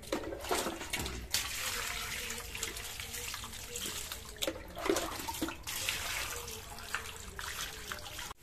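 Tilapia fish being washed under running water, a steady splashing flow from a tap with brief interruptions and rinsing sloshes, close and continuous.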